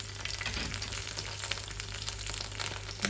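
Chopped ingredients fry in hot coconut oil, giving a steady close crackle and sizzle with small pops throughout and no talking.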